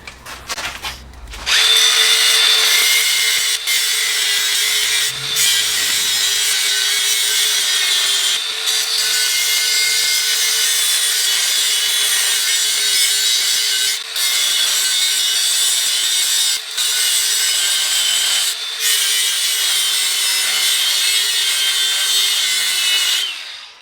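An angle grinder cuts off the carrier bearing on a Dana 60 axle from a Ford F250, running loud and steady with a continuous high whine and gritty rasp after a brief start.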